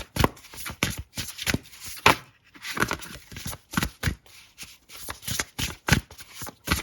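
Thick tarot cards being shuffled by hand in a quiet room, in repeated quick riffling bursts with short pauses between, close and fairly soft, with no one speaking.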